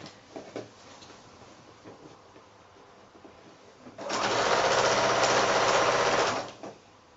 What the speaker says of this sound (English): I'm just stitching quite close in to the edge of that binding.